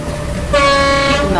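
A ChS7 electric locomotive sounds its horn in a railway simulator, pulling express train No. 741 from Moscow to Belgorod; a single loud, steady horn tone starts partway through and holds to the end over a rumbling background.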